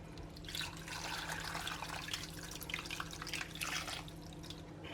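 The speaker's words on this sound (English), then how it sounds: "So I'm going to pour my liquid over now." Cooking liquid of stock and wine poured over a pot roast in a pot, a soft continuous trickle and splash lasting a few seconds, faint and close with a low hum underneath.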